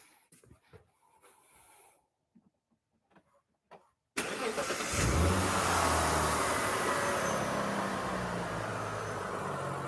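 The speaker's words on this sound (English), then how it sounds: "Okay, and I'm going to go and start the car." A Mitsubishi car undergoing airflow meter testing makes faint clicks and handling noises, then its engine fires abruptly partway through and settles into a loud, steady idle close by.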